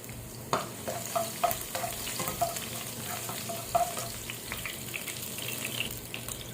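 Garlic frying in hot cooking oil gives a soft, steady crackling sizzle at close range, broken by a few light clinks and stirring taps, and no one talks.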